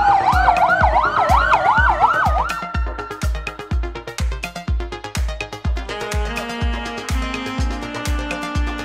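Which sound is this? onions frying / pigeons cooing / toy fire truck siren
toy fire truck siren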